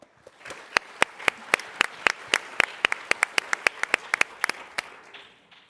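Conference audience at TechCrunch Disrupt 2023 applauding speakers after a startup session, with sharp, evenly spaced claps standing out over softer crowd clapping that holds steady and then tapers off.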